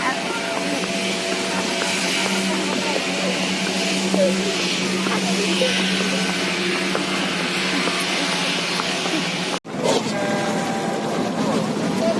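Constant engine drone of a motorboat on Telaga Sarangan lake in Magetan, East Java, with water noise and voices talking over it, interrupted by a brief dropout near the end.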